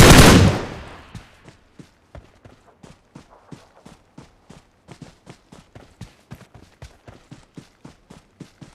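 Gunfire rings out in the mobile game PUBG Mobile on the Livik map: a loud burst opens, then a long run of evenly spaced single shots follows at a steady rhythm, each sharp and moderately loud.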